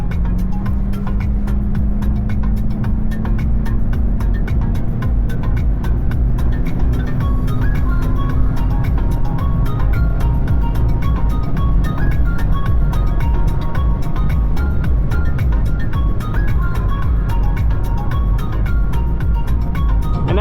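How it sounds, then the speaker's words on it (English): Volkswagen GLI engine droning loudly from inside the cabin during a double downshift pass, a steady rising tone as the car pulls through, continuous with no talking. "Do a double downshift pass here."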